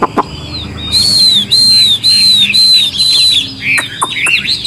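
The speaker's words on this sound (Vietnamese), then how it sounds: "Giọng rừng rất là hay, luyến láy giọng rừng hay cực kỳ luôn." A captive laughingthrush (khướu) sings a wild-style song, loud and close, with a run of bright repeated whistled phrases followed by quick chirps and sweeping notes, with no talking.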